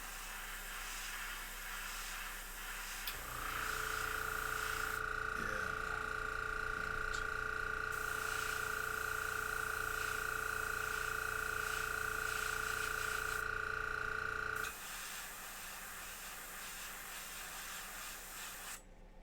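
A steady hiss of spray paint from an aerosol can onto a plastic toy figure's gun runs continuously for about eleven seconds, starting and stopping abruptly against a noisy background.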